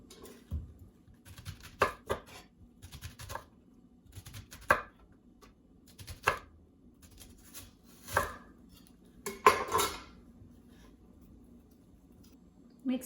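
Knife cutting an onion into rings on a board, a series of separate sharp chops spaced a second or two apart, close and clear over a quiet background hum, with no voices.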